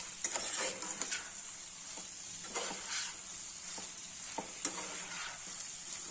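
Crispy baby corn is stirred and tossed in a hot frying pan with tomato ketchup on a gas flame, giving a steady soft sizzle punctuated by repeated scraping and clinking strokes of a utensil.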